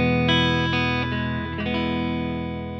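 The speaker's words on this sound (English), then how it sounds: "This is on the 65 setting, which is like your deluxe reverb, your blackface amps." Clean electric guitar through a Quilter Superblock amp on its 65 setting, voiced like a blackface Deluxe Reverb. A few sustained chords ring out clearly with a reverb tail, and no one speaks.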